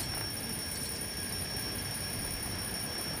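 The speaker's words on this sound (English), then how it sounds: "Got some type of alarm." Alarm sounding in Lego Marvel Super Heroes, a steady high-pitched electronic ringing tone held continuously over a low noisy background, fairly faint and unbroken.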